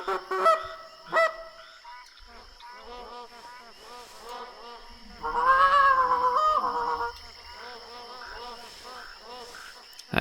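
Geese honk in the hunting game theHunter: Classic while they circle overhead. Scattered honks build into a louder burst in the middle, over a constant insect-like buzz.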